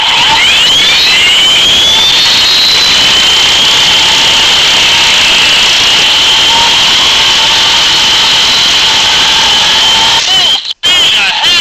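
Toy State Freedom Force toy fighter jet playing a loud electronic jet takeoff effect, a constant high-pitched whine with rising tones, cutting out briefly near the end.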